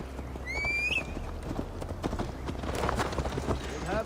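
Hooves of a horse ridden in Assassin's Creed Valhalla clop in a steady running rhythm, moderately close, with a brief whinny near the start and people talking over the hoofbeats.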